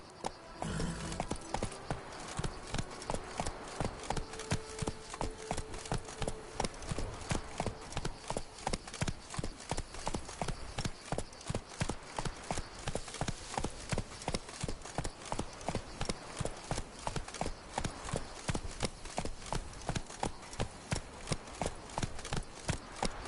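Galloping hooves of Roach, a horse in the video game The Witcher 3, pound in a steady fast rhythm for the whole stretch, loud and close, with a brief whinny-like sound near the start.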